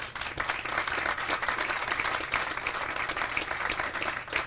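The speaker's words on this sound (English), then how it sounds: "Let's give them a round of applause." Audience applause at a groundbreaking ceremony, a sustained wash of many hands clapping steadily at moderate volume for several seconds without speech.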